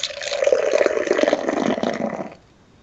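Liquid pours out in a steady, splashing stream for a little over two seconds, close and fairly loud, then cuts off abruptly into near silence.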